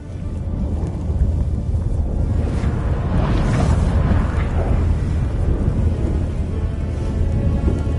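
Thunderstorm in The Witcher video game: a loud, continuous rumbling roar of thunder swells and rolls throughout, with heavy low-end noise and no speech over it.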